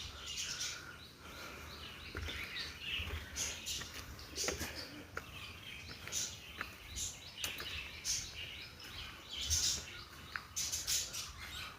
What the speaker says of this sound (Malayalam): ലവ് ബേഡ്സും ഗിനി പിക്സും നമ്മുടെ പ്രാവും എല്ലാം കുറുകാൻ തുടങ്ങും